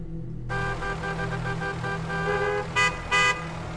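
Busy city traffic in Makati, with a steady engine hum and a long car horn blast, followed by two short sharp honks near the end.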